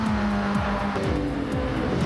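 A tuned road car at full speed sweeps past another on the Alsace circuit in a racing game, its engine a steady high drone with rising and falling pitch sweeps as the cars pass close by.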